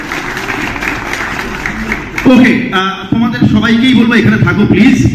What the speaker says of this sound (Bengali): বাংলার মাটি থেকে ওঠা একটা কনসেপ্ট জোরে হাততালি